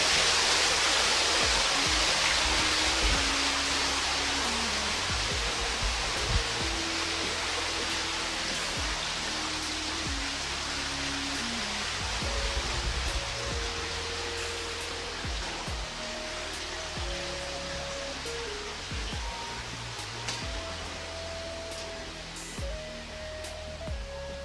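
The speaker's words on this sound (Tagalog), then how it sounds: "Ayan yung mga tubig na nanggagaling dun sa malaking falls" Water rushing down from a large waterfall near Ryugashi-do in Hamamatsu, Shizuoka, a loud continuous roar with no breaks. A faint melody plays softly beneath it.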